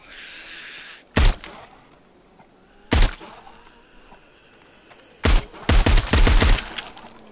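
Gunfire rings out at a zombie horde in the VR game Arizona Sunshine on PSVR: two sharp single shots, then a rapid volley of several cracks near the end, with quiet pauses between.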